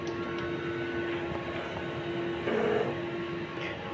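A sublimation printer whirs and hums steadily during a print head cleaning cycle, with a brief louder mechanical pass near the middle, no voices.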